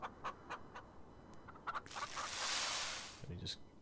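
Chickens in the farming video game Farm Together cluck in short scattered bursts, close and moderately loud, with a brief broad rushing swell in the middle.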